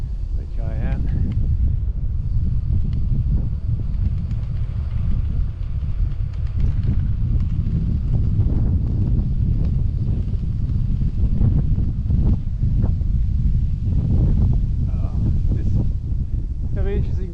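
Strong wind batters the microphone during a bike ride on the Furongjian route near Wenzhou Kean University, a constant low rumble and buffeting roar that runs the whole time, with faint voices now and then underneath.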